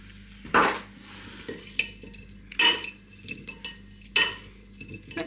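Air-fried butternut squash fries are tossed with peri-peri seasoning in a metal bowl or basket, giving a few loud rattling clatters and scrapes between quieter shuffles, close and with no talk.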